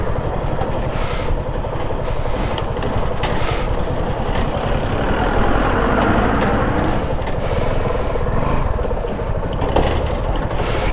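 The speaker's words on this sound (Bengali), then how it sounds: "আগে গাড়িগুলো আসছে, গাড়িগুলো বেরোক, তারপরে আমরা বেরোবো" Heavy vehicles rumble across a bridge on a mountain road near Mirik, Darjeeling, a loud continuous roar of engines and rolling tyres with a brief hiss of air brakes, close by and with no voices.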